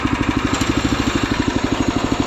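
A Predator engine swapped into a Wheel Horse garden tractor runs at a steady, fast-pulsing chug, loud and close, with even firing beats throughout and no talking.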